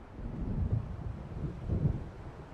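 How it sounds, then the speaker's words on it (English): Low, rolling thunder from an approaching storm by the water in the video game Alan Wake, with rumbles swelling and fading over a windy background. "It seems there's a storm coming."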